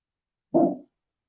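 A single dog gives one short, muffled bark in an otherwise quiet indoor space.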